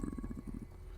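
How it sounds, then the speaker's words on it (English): A short low gurgling stomach rumble, a quick series of about eight soft pulses close up, fading out after half a second with no talk. "your stomach has made that sound"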